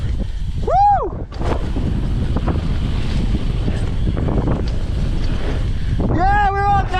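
Strong wind roars and buffets the microphone during a mountain bike ride on a freeride jump line, a steady loud rush with brief whistling tones near the start and end and a voice speaking.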